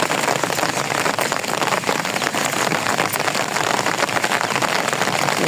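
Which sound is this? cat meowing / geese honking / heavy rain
heavy rain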